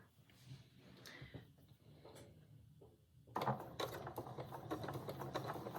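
Domestic sewing machine stitching a seam allowance to a dress facing, running in a steady quick burst after quieter handling noises, near and fairly loud with no talk.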